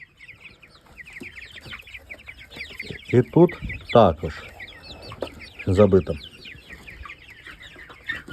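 A flock of chickens clucks and chirps steadily, with someone speaking briefly in the middle and louder bursts of movement nearby.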